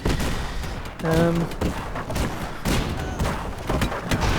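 Deck gun and cannon fire in the Airships: Conquer the Skies video game, rapid overlapping booms and thuds in irregular bursts with a brief tonal chime, loud and continuous throughout.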